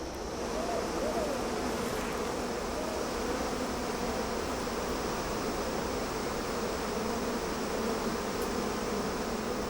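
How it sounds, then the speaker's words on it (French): Angry bees in Nepal swarm low around their torn-down nest, a dense steady buzzing that fills the whole stretch with no pauses, loud and close over a broad airy hiss. "Quelques abeilles énervées suivent leur maison en lambeaux jusqu'au sol"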